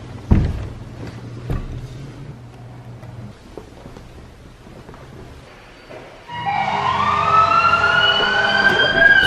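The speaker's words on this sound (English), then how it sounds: "you play an ambulance noise" An ambulance siren sound effect bursts in after several seconds of quiet room noise and a few soft thumps, its loud rising and falling wail filling the rest of the clip.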